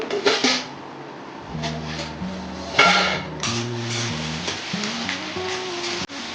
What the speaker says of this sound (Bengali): এবার আমি ঢাকনা খুলে দেখি কতটা হয়েছে